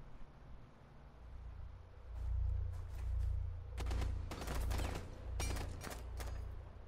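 Rainbow Six Siege gunfire rattles in quick automatic bursts, several close volleys clustered one after another over a low rumbling background, with no talking over them.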